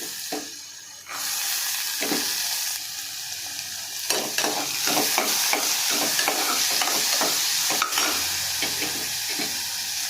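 Cumin seeds frying in ghee in a home kitchen, a bright steady sizzle that starts up after a quiet second and continues with scattered spoon-stirring clicks and scrapes, close and alone with no talk.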